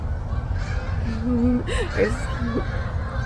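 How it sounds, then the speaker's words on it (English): Several geese honk in short calls from a distance over a steady low rumble, their cries rising and falling as they pass. "The geese are flying by."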